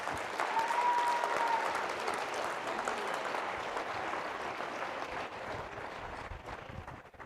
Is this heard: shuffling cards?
no